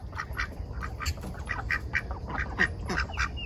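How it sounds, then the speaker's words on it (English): Mallard ducks quacking near a farmyard pond in repeated short, nasal calls, with a few overlapping voices rising over a low background rumble. "Mallard."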